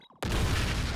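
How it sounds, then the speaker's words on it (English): In the game Danganronpa V3, a sudden loud explosion blast cuts in after brief quiet tones and holds as a dense, roaring burst to the end of the clip. "Explosion time."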